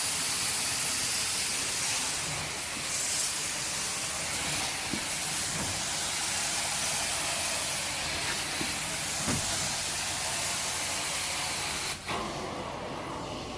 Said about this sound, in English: I'm not losing as much airflow because I am extracting the defoamer and the residue at the same time